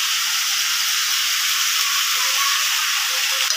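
Potato and pointed gourd curry seasoned with salt and turmeric fries in a pan, giving a steady, even sizzling hiss that holds without a break from start to end, with no voices.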